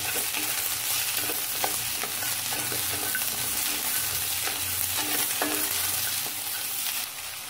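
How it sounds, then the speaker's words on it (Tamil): Onions sauté in oil in a pan for mango and okra sambar, a steady close sizzle with occasional stirring scrapes throughout. "இது சேர்த்து நல்லா அதை வதக்கிடலாம் ஒரு அஞ்சு நிமிஷம் வதங்கினா போதும்"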